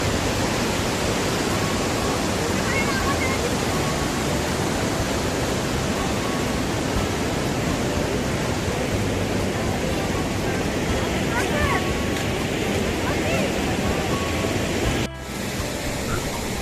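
A roaring waterfall at Bhedaghat near Jabalpur throws up spray in a dense, unbroken wall of rushing water noise, loud and close, with a faint voice buried under it.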